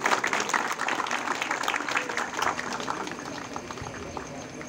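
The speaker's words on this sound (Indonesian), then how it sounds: "tepuk tangan untuk Kampung Tulu" Applause from a gathered crowd at an evening Malam Tirakatan opening ceremony in Kampung Tulung, Magelang, a steady dense patter of clapping that slowly fades, with faint talk beneath.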